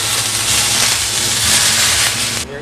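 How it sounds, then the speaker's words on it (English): Super hot smoking oil poured over steamed fish gives a loud, continuous sizzle and hiss, close and steady for a couple of seconds before cutting off abruptly. "You take this super hot smoking oil,"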